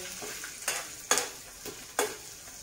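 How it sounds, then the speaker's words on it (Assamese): Chopped onion sizzles softly in hot oil for a jackfruit curry, with a few sharp scraping stirs of a spoon breaking through the quiet frying hiss. "দুই মিনিটমান তেলতে ৰঙালাওখিনি ভাজিব লাগে"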